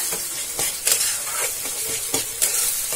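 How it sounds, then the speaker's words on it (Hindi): Spice masala for a chicken curry fries on medium flame in a pan, giving a steady sizzle and hiss broken by the repeated scrapes of a spoon stirring, close and fairly loud. "गैस के फ्लेम को हमें मीडियम कर देना है और मसाले को थोड़ा भून लेना है।"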